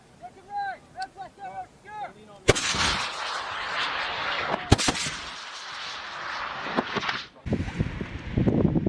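M3E1 MAAWS recoilless rifle rounds fired on an Army test range: two sharp, heavy blasts a couple of seconds apart, each followed by a long rumbling roar and wind noise, after a stretch of shouted voices.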